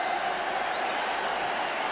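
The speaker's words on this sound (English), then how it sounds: "the reaction in the crowd is for Dennis Stewart appearing on the touchline" A football crowd at Manchester City versus Aston Villa stirs in a steady, distant roar with faint clapping as a substitute appears on the touchline, with no distinct peaks over the couple of seconds.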